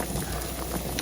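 A pot of food comes to a boil, giving a close, continuous bubbling and sputtering for one brief second, with no talk.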